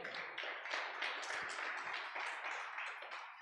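A church congregation claps for God during a sermon, giving steady, dense applause that stays fairly faint and distant throughout.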